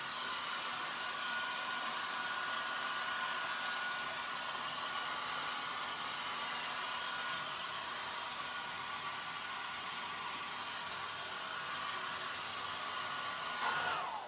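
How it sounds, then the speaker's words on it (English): A hairdryer blasts steadily to dry acrylic paint on a vintage cushion, a constant breathy, whooshing roar at close range with a faint motor whine, switching off right at the end. "I'm just going to take my hairdryer and give it a quick blast."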